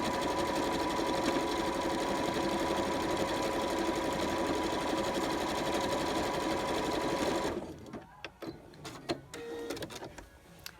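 A Janome 3160/4300 sewing machine stitches decorative designs with a loud, fast, steady mechanical whir for several seconds, then stops, leaving faint clicks and handling noises.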